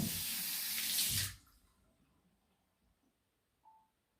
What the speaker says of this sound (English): Bathroom sink on.